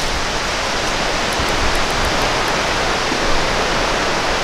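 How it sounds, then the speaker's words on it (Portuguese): Cascata do Imbuí, a waterfall in Brazil, roars as a loud, unbroken wash of falling water, close and steady throughout with no voices. "essa cascata é aqui, ó, próximo praticamente a onde teve a tragédia"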